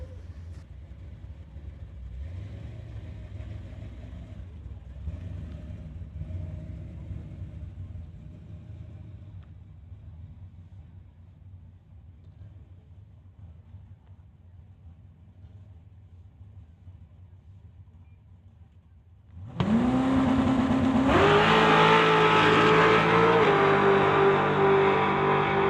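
A Fox body drag car running a 427 with nitrous launches near the end, a sudden loud, sustained engine roar and rising rev after a long stretch of low rumbling idle and faint announcer-style talk.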